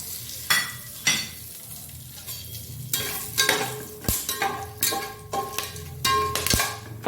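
Onion with bay leaves, cinnamon, cloves, cardamom, star anise and garam masala frying in hot oil for egg biryani, a busy crackling sizzle with repeated sharp stirring scrapes and clinks of a utensil against the pan.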